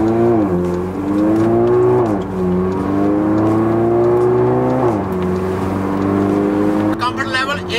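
Mercedes CLA 45 AMG with a 350-horsepower four-cylinder turbo engine revving and pulling hard, its pitch climbing in repeated sweeps as it accelerates through gears, loud and steady from inside the car.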